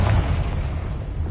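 A Confringo fire spell in Hogwarts Legacy lands as a dense, roaring blast, a heavy low-end boom that fills the short moment with no voices.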